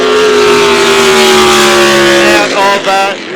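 A racing powerboat engine roars loudly and steadily nearby during a speedboat race, then its pitch drops and shifts as it changes speed near the end.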